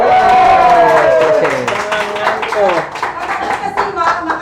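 Audience clapping at a comedy stage show with police officers, heard as scattered claps and crowd noise beneath a prominent speaking voice.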